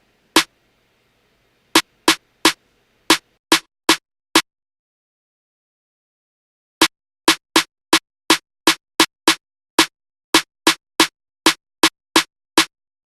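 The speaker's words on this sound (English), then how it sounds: "I'll add this cool little trappy snare pattern. I'll start rolling this up more." Sharp, dry snare hits from a trap-style pattern built in FL Studio ring out alone in an uneven, syncopated sequence, a short opening group, a long gap, then a longer, quicker run that tightens toward a roll.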